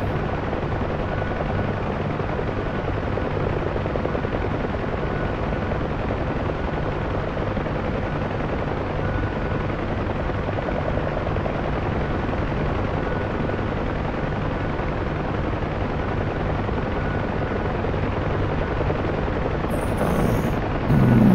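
A UH-1H Huey helicopter in the DCS flight simulator flies steadily at low altitude, its rotor and turbine forming a constant dense drone with no talk over it.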